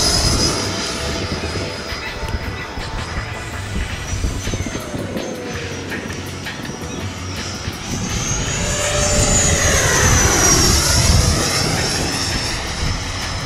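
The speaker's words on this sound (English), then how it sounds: "Let's do an inverted pass with the wind." An RC airplane on upgraded 8s electric power making an inverted pass into the wind, a loud whining motor and propeller drone that swells as it sweeps overhead.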